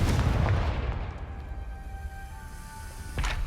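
The Confringo explosive spell in a Harry Potter video game lets off a heavy, booming blast that rolls away and fades over a few seconds, with a second thump near the end.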